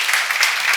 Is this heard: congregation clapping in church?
yes